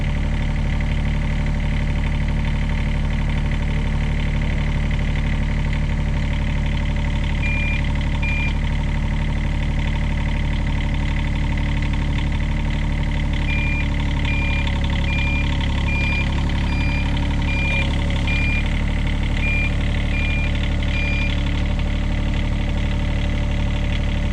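A small construction machine's engine idles and labors while its bucket pushes up against the ground to lift the machine, a steady, fairly loud mechanical drone throughout with no one speaking.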